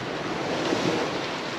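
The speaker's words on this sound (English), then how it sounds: "Here comes the wind." Wind and waves at sea as a squall approaches a sailboat, a steady, close rush of gusting air and surf with microphone buffeting, continuous and without speech.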